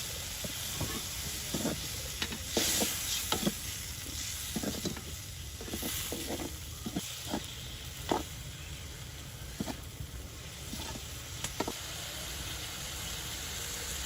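Small icha shrimp simmer and reduce in a pan for a village-style chili bhuna with potatoes, a steady soft sizzle and hiss with occasional stirring scrapes and clinks throughout.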